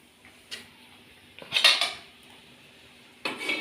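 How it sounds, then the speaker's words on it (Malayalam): A ladle stirring homestyle egg curry in a pot, scraping and clinking against the metal in a few separate bursts with quiet pauses between, close and clear, no talking. "തവി കൊണ്ട് ഇളക്കാൻ തുടങ്ങി"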